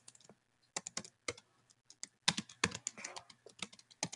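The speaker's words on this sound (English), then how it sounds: "I'm actually going to type my name again" Someone typing a name on a computer keyboard: a short run of soft, close key clicks in uneven bursts, quick little clusters separated by brief pauses, in an otherwise quiet room.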